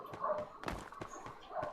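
A dog in Fallout 76 gives a few short, sharp barks and yips in quick succession, fairly faint against the game background.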